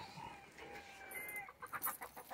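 A rooster on a farm clucking and crowing faintly, a drawn-out call followed by a burst of short clucks, heard alone at low volume.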